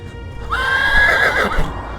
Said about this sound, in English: jumped on his trusty horse, Meg,